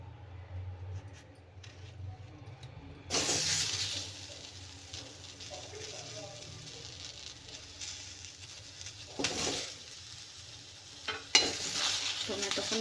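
Tomatoes frying in hot oil with onions in a pan, a steady sizzle with stirring scrapes and a couple of louder bursts as they hit the oil, close and moderately loud with no talk.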